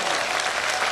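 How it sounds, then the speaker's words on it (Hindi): A crowd at a gathering breaks into loud, dense applause for a young boy, a brief burst of rapid clapping close and full throughout. "एक बार जोरदार ताली बजनी चाहिए हमारे अनुज के लिए"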